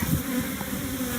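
Honeybees buzz steadily and close during an inspection of a first hive, a dense continuous drone with no voices over it.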